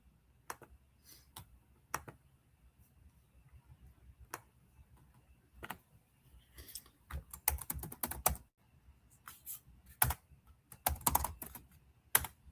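Computer keyboard typing, sparse and scattered at first, then clustering into quicker bursts of close keystrokes and clicks, heard alone without speech.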